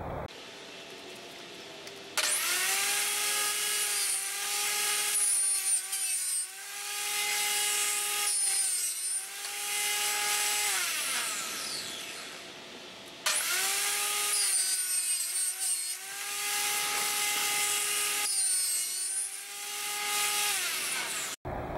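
A power tool cuts a channel along PVC/CPVC pipe with a whining, buzzing drone, in two long passes separated by a short pause, loud and close with no talk.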